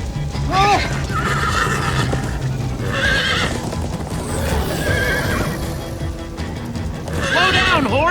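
A Minecraft Story Mode horse whinnies repeatedly over steady galloping hoofbeats, loud and close, with game voices and noise layered underneath.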